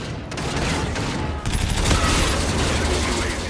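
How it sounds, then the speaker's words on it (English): Dense, loud pistol fire in Call of Duty: Infinite Warfare multiplayer, a continuous rattle of overlapping shots and mechanical clatter with little pause. "This guy's gunning me with this pistol!"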